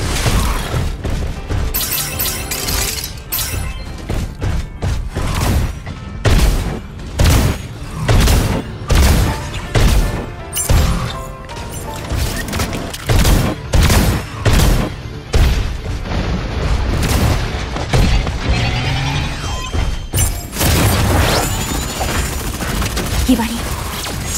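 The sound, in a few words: gunfire in the video game Super Mecha Champions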